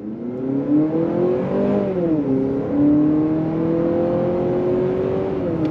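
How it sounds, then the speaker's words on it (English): A 2026 Honda CR-V Trailsport compact SUV pulls away from a stop and revs steadily higher, its drone rising, dipping briefly at a simulated gear shift, then climbing again, loud and close. "let's see how it accelerates from a dead stop. On throttle, here we go."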